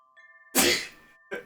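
A single sharp, close sneeze bursts out and trails off, followed by a short second exhale; a faint steady tone hums beneath it.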